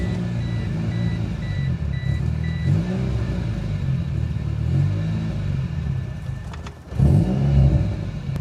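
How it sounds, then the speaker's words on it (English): A worn-out second-generation Mitsubishi Eclipse engine running rough and held on the throttle, a steady near revving drone with a short dip near the end before it surges again. "I have to stay on the gas, otherwise it's gonna die."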